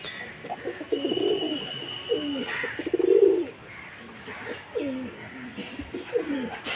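Pet pigeons coo in soft, repeated throaty bursts close by in a loft, with a few faint chirps and some background noise.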